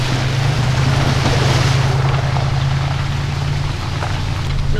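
A car fords a river in a Georgia national forest on a rainy day, a loud, steady rush of water and engine rumble with heavy wind-like noise, continuous throughout without talk.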